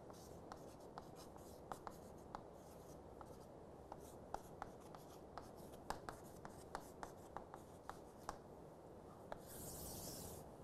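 A pen or marker writing by hand during a lecture on ternary phase diagrams, a steady run of quiet scratching strokes with small taps, faint and close with no talking.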